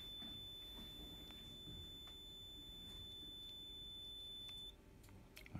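A dive computer's alarm buzzer beeps rapidly and continuously at a steady high pitch, faint and close, then cuts off shortly before the end.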